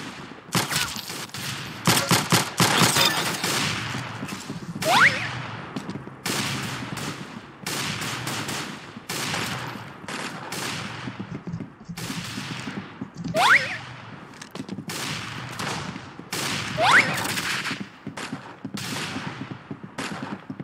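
Rapid bursts of gunfire from a gun in the online shooter game Arsenal, loud repeated volleys crackling almost continuously with a few sharper standout shots.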